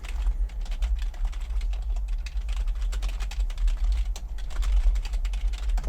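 Quick, steady typing on a computer keyboard, close and continuous, with a low background hum underneath and no talking.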